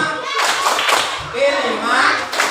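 Children clapping along to the Tepuk P5 chant in a classroom, a few loud rhythmic claps mixed with chanting voices, close and lively.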